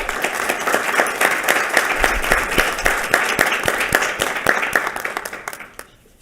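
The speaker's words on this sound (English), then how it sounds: "Let's give them a round of applause." A school board meeting audience applauds ROTC students in a dense, steady wash of clapping that holds at full strength for about five seconds before quickly fading to near silence.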